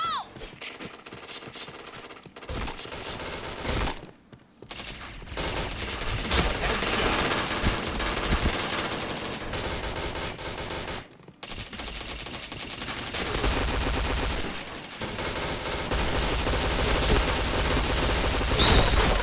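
Rapid gunfire from a shooting video game, with bursts and sustained fusillades running loud and dense across the whole stretch, broken by a few brief gaps.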